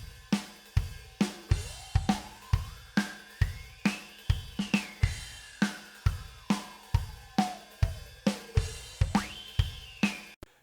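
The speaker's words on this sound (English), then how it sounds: "that sounds like this if we have a really narrow bandwidth." Drum loop played through a Reaper EQ boost with an overly narrow bandwidth, a steady beat of sharp hits topped by a whistling resonant tone that sweeps slowly up and down, loud and alone.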